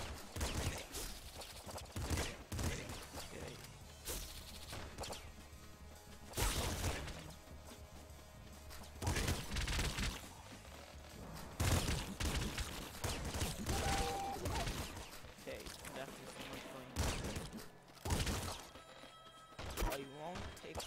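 Rapid gunfire and crashing impacts from the Nuclear Throne video game, a dense stream of repeated shots and bursts, including a golden shotgun, with a person talking over the action.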